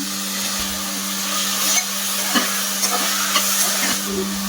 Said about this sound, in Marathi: यामध्ये 1 बटाटा आणि फ्लावर हेही परतून घ्यायचं आहे